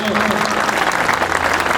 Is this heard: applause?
yes